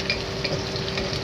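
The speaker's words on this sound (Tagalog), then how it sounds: "Nagisa ko ng sibuyas. Ang bawang." Onion and garlic sauté in a pan for pancit lomi, a steady close sizzle with faint stirring scrapes, no voices.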